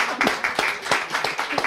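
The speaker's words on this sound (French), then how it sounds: "On peut même l'applaudir." A small audience claps for a woman who has just read from a book, with a few distinct hand claps spaced across a short stretch, moderately close and unhurried, no talking over them.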